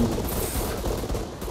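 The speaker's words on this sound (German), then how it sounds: "Wo kommen die Schüsse?" Rapid gunfire from the video game ArmA 3 in a King of the Hill match, a dense continuous fusillade of overlapping shots and booms sustained throughout at steady loudness.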